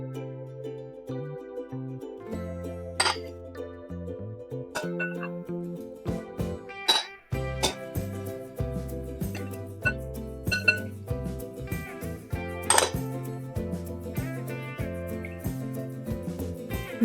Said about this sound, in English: use a spoon to gently separate the 3 egg yolks into 3 small bowls.